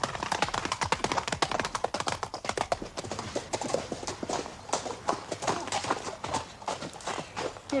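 Horse hooves clip-clop in a quick, steady run of close, crisp taps, alongside faint background noise. No voices are heard.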